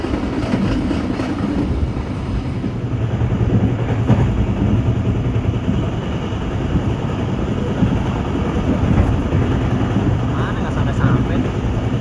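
Airlangga economy-class passenger train running on rails on its Jakarta route, a steady loud rumble with faint wheel clatter throughout, heard from inside a carriage full of passengers.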